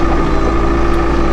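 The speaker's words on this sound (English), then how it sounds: "We'll give it a little bit of gas here." A Toolcat 5600 utility vehicle's engine running steadily and loud with a constant low drone as it is given a little gas, outdoors in light snow, with wind noise over the microphone.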